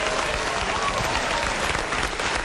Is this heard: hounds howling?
no